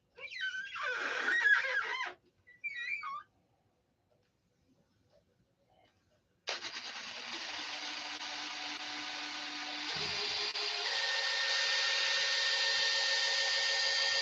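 Power polisher buffing compound on a stunt plane part in a hangar: a high whine with faint bursts first, a pause, then a loud steady motor drone that shifts pitch and keeps running to the end.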